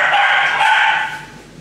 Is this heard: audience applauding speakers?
no